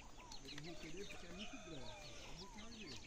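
Chicks peep and cheep steadily while being fed on a farm, with many small overlapping calls that are soft and somewhat distant. Low background noise runs underneath throughout.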